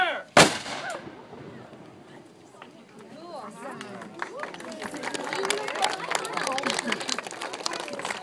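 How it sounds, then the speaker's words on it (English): A historic cannon at Fort Mackinac fires a single sharp, booming blast near the start, followed by a rising murmur of crowd chatter and voices. "we are ready to fire the cannon now"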